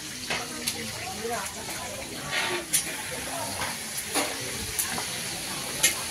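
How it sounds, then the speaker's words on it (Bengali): Fish paturi fries in a pan at a busy Bengali wedding-ritual kitchen, giving a steady broad sizzle with scattered stirring clatters, while voices chat in the background. "মাছের পাতুরি ভাজা চলছে।"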